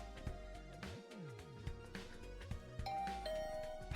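Doorbell chime inside a video game, a two-tone ding-dong ringing out over layered game music and ambience, moderately quiet.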